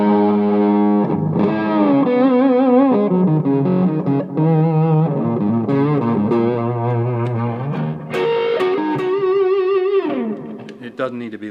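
Distorted electric guitar played at low volume through one small cabinet with C90 speakers, with sustained bending notes and chords, fairly clean and close, no talking over it.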